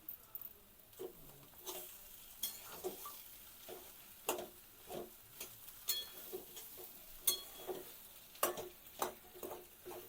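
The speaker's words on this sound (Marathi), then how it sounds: "आणि पुन्हा एकदा आपण हलवून घेतो आपण बटाट्याची भाजी ती" Spoon scraping and stirring spiced potato filling for masala dosa in a pan, with irregular clinks and scrapes repeating every second or so over a faint sizzle, moderately quiet and without talk.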